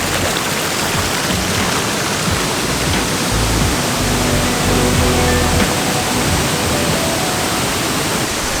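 River water rushing over rocks at Quarry Trails Metro Park in Columbus, a loud continuous broadband roar close by, steady throughout with no voices.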